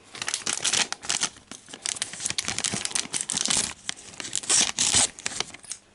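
A plastic blind bag for a Thomas & Friends Minis toy being torn open, a close, busy run of crinkling and ripping across several seconds with short pauses, no talking.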